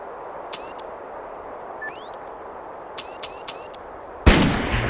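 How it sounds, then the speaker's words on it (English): Cannon fire in the video game Darkest of Days: a few short gunshot-like cracks and whistling, ringing tones, then a heavy boom near the end that rumbles on. "Is that thing a fucking cannon or what?"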